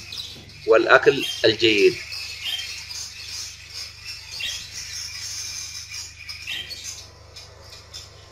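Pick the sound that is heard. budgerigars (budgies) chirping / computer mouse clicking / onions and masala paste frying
budgerigars (budgies) chirping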